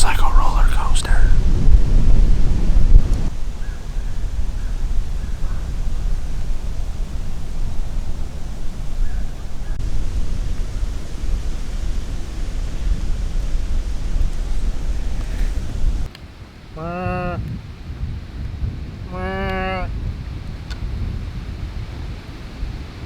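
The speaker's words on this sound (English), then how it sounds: "It was way too windy." Strong wind buffeting a bow hunter's tree saddle, a loud, rushing roar for most of the stretch, then easing to a softer hiss while a person speaks quietly.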